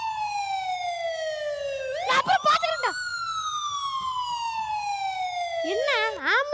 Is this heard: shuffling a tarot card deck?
no